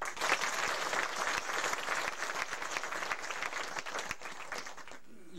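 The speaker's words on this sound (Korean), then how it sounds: "박수 한번 합시다" A church congregation at a building dedication service applauds, sustained dense clapping from many hands that holds steady for several seconds before cutting off.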